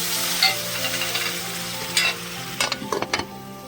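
Flat beans with turmeric and coriander sizzle in a pan, a steady frying hiss broken by several sharp scraping stirs toward the end.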